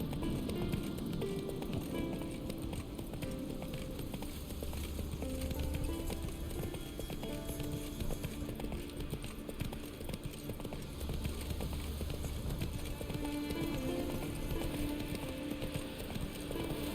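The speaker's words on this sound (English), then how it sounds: "Come on, Roach." A horse gallops in The Witcher 3: Wild Hunt, its hooves clip-clopping in a steady, rapid rhythm that runs the whole way, close and fairly loud over a layer of game background sound.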